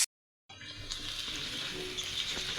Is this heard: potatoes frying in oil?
yes